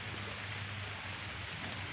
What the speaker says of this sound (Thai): มากับบรรยากาศฝนตก